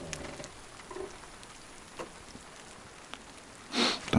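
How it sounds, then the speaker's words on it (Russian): Light rain falls outdoors on a riverside camp, a soft, steady patter with scattered nearby drips and a brief louder rustle near the end, faint and with no voices. "Пошел дождь."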